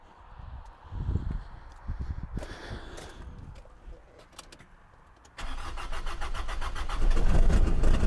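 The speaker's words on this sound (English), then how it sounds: "It will be able to start a vehicle that doesn't have a battery" A car engine cranks and fires up using a Noco GB150 Genius Boost Pro lithium jump starter with no battery fitted, then settles into a loud, steady running roar close by.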